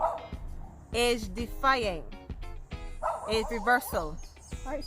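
A dog barks and yips repeatedly close by, loud excited bursts overlapping someone talking.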